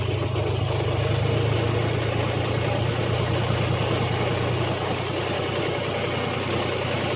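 A tractor with a plough hitched on runs at a steady idle, giving a continuous low, throbbing rumble with a constant even level and no breaks.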